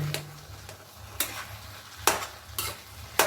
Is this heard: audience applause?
no